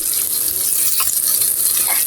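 Steady frying sizzle of eggplant in a pan, a continuous bright hiss with faint crackles and a couple of soft clinks, no voices.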